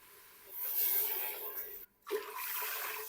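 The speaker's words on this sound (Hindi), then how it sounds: "अब इसमें मैं पानी शामिल कर दूँगा।" Water poured from a mug into a cooking pot of fried masala for a white lobia and black lentil curry, a soft rushing splash that swells, breaks off briefly, then resumes close by.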